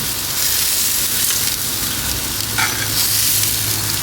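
Butter sizzles and fries in a pan on a gas grill, a steady close hiss with faint stirring and scraping, continuous and alone without talk.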